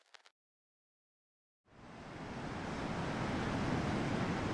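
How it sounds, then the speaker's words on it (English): A brief noise at the start, then silence, then steady loud broadband wind roar rushing continuously to the end, with no voices. "It is quite windy"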